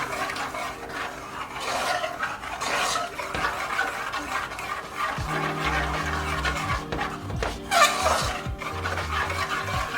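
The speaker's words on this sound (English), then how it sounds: "I'm going to blend this all together" Tomato bisque ingredients in a pot churned together, a close rough whirring and sloshing with scraping against the pot, steady at first, with a deeper low drone setting in midway.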